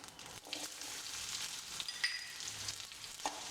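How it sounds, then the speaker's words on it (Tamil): Quiet, continuous frying sizzle of onions in oil with mustard seeds and pepper for chicken kurma, with occasional spatters and light stirring scrapes, no voices. "இப்போ கடுகு மிளகு வெடிச்சு வர சமயம் வெங்காயத்தை போட்டு வதக்குவோம்"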